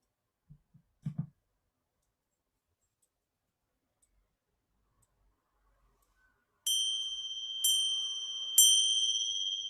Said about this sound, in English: the bell marking the end of our practice, the end of the relaxation